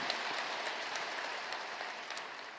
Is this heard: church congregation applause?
yes